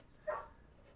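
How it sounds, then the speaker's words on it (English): A single short dog bark sounds faintly and briefly against quiet room tone. "my dog is barking because my kids are outside"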